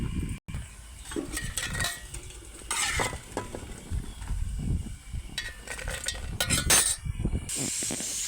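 Oil fries in a pan for a village-style dried red chilli and tomato chutney, with steady sizzling and irregular clatters and scrapes of a utensil stirring against the pan, close up with no talking.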